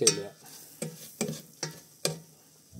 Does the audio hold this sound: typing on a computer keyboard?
no